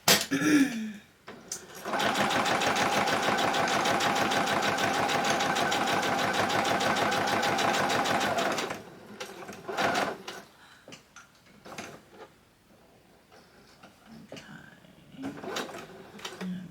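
A sewing machine stitches a fabric notepad in one steady, fast rhythmic run of about seven seconds, followed by quiet handling sounds, a few small clicks and faint shuffling.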